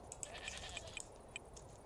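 Sheep bleating in the video game Dawn Craft, several short, faint calls repeating at uneven intervals over soft background ambience.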